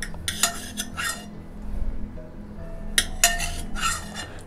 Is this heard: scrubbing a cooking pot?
yes